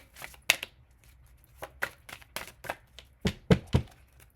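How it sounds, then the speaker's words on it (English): Irregular bursts of crisp snapping and fluttering as stiff cards are shuffled close by, clustered near the start and the end with quieter rustling between them. "These cards are a little bit hard to shuffle."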